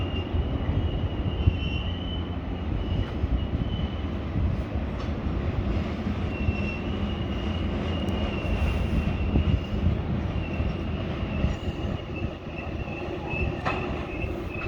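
A train rumbles steadily through the Spiral Cut, a continuous heavy roll of wheels on rails with a faint high squeal, heard from a distance and lasting throughout.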